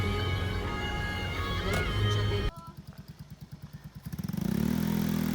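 Small motorcycles pass along a farm road in General Santos City. A steady engine drone runs first, then a clattering, pulsing engine passes close and grows louder toward the end.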